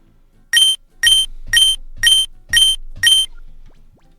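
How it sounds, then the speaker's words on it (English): A timer goes off, sounding six loud, evenly spaced electronic beeps about half a second apart, close and clear against near silence, with a faint hum beneath. "I'll just wait till the timer goes off"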